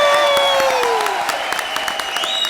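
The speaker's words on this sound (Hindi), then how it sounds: "अरबाज भाई के लिए फिर से जोरदार तालियां" Studio audience applause at a televised comedy competition, scattered claps beneath bright music tones and a whistle-like sliding note, with faint voices mixed in.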